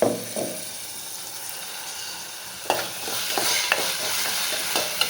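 Spices and ground tomato sizzle steadily in a hot pan while a utensil scrapes and stirs with a few sharp clinks, close up and moderately loud.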